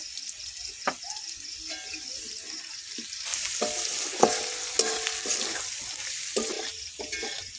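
Chili powder and sugar fry in hot oil for a chicken curry, a steady sizzle that grows louder midway, broken by scattered clinks and scrapes of a stirring spoon against the pan.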